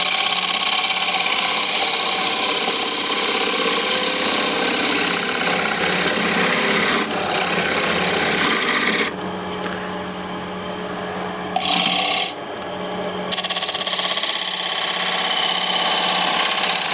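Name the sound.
shear cut on a wooden bowl on a lathe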